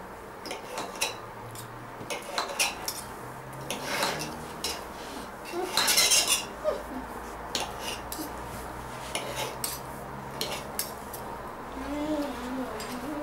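A fork cuts through syrniki on a plate, making repeated light metallic clinks and scrapes against the dish in an irregular rhythm, close by, with faint voices and household sounds in the background.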